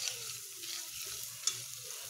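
Caramel syrup for a Christmas pudding cooks in a pan, giving a faint, steady sizzle with soft stirring scrapes throughout and no voices.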